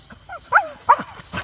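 A dog barks several times outdoors, short sharp yelps spaced irregularly at moderate distance, with faint background noise and no talking.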